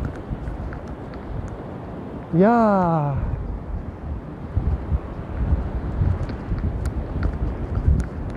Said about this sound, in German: es ist ganz schön windig. Der Wind kommt von hinten